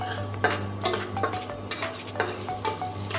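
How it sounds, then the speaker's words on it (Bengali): Dried red chilies torn into hot oil for tempering, sizzling softly up close with repeated sharp spatula taps and scrapes against the pan over a steady low hum. "এমনি দিয়ে দিব দুটো শুকনো লঙ্কা ফোড়নের জন্য"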